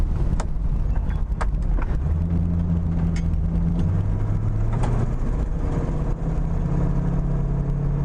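A 1969 Chevrolet Camaro RS accelerating and shifting gears, a deep rumbling engine note climbing in pitch, dropping at a shift, then climbing again, heard close and steady with some rattles.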